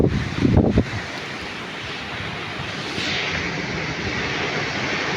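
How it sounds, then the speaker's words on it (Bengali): Strong storm wind during a rain squall in Satkhira, a loud continuous roar buffeting the microphone, with a brief heavier gust thump at the start and steady rushing afterward, no talking. "ঝড়ের সাথে বৃষ্টিও হচ্ছে, কিন্তু বৃষ্টির প্রভাবটা কম,"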